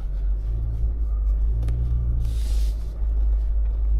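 A 2024 Ford Ranger Wildtrak pickup driving off-road through wet sand, a steady low engine rumble from inside the cab with a brief hissing spray of sand or water midway.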